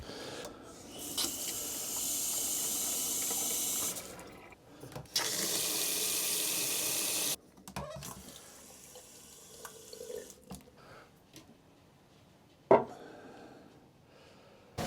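Water gushes from a tap in two loud steady bursts, then stops, with a toilet also flushed; afterward come quieter clanks, drips and a sharp knock.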